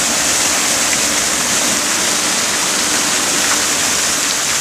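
Water rushes steadily beside a small boat in Chile, a constant loud broadband wash like a stream or waterfall, with no pauses and no voices.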